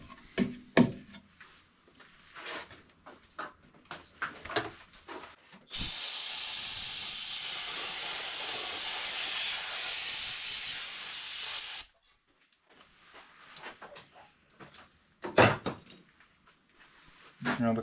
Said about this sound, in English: but I think the sander will take care of that.